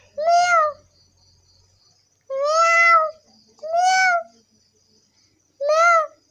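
A cat meows four times, close and clear, with short pauses between each call and near silence around them.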